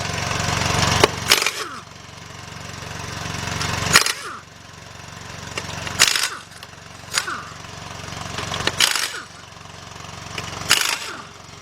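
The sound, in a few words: air compressor running while removing a tire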